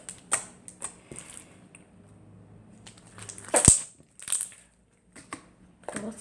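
Black slime squeezed by hand gives off a series of sharp, irregular clicks and crackles, close and fairly loud, with one louder burst of squelching pops near the middle and no talking.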